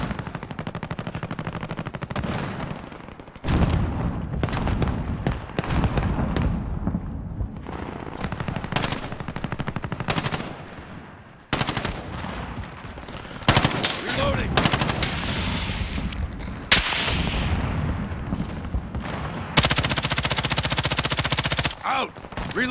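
Sustained automatic gunfire in the video game Warzone, loud and close, with long rattling bursts and short breaks between them.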